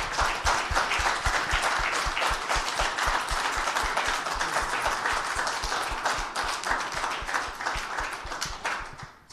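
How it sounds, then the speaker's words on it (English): Sustained, dense applause from an audience honoring U.S. recipients of the 2017 Nobel Prizes at a congressional gathering. The clapping is loud and steady throughout, then tapers off at the very end. "Please join me in a round of applause for these Nobel Prize laureates."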